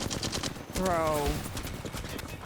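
Rapid automatic gunfire in the battle royale game Apex Legends crackles steadily throughout, with a brief rising mechanical whine in the middle and a voice talking over it.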